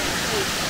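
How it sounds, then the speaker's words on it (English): Rushing water at Lumsdale Falls, a waterfall, fills the clip with a loud, steady broadband roar close by and no clear break. "Can't hear you, there's lots of water."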